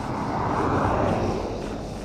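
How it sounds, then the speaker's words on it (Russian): A large airliner's engines spooling up at an airport, heard as a broad, steady roar that stays loud and constant, fairly near, with no talking over it. "О, заводится этот самолет большой."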